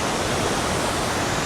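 Cumberland Falls, a large waterfall in Kentucky, roars as a dense, steady rush of falling water heard up close, broad and unbroken with no talking.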